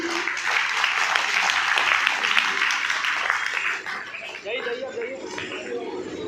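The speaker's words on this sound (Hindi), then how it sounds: "तालियों की गड़गड़ाहट के बीच" Loud applause rolls through a felicitation ceremony honouring senior secondary school students as they are garlanded, thick and sustained for about four seconds before fading into speech.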